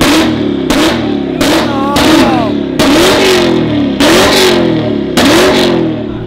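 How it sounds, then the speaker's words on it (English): Dodge Hellcat with red interior revving hard in repeated bursts, about six loud throttle blips rising and falling close by, with people talking around it. "Bro, you gotta rev it for me."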